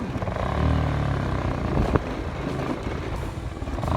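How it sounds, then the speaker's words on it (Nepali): A struggling motorcycle engine on a main road, its low, uneven drone running steadily with a brief sharp knock midway, loud and close, with no talking. "बाइकले एकदम धोका दिइरहेको छ।"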